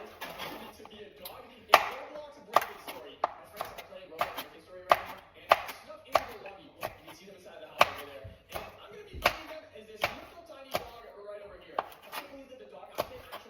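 Sweet peppers are chopped with a knife on a cutting board in a home kitchen: a steady run of crisp, evenly spaced knocks close by, with a voice talking now and then.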